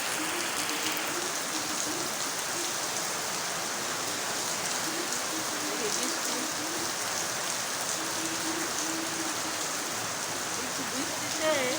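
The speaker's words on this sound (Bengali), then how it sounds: "দেখেন বৃষ্টি কাকে বলে" Heavy rain pours down steadily, a dense, close, unbroken hiss and patter of drops on surfaces that stays loud and even from start to finish.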